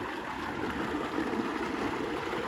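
Cold water flows from a tube well in a Pakistani village with a steady, close rushing and gurgling. The sound is continuous and fairly loud, with no speech over it.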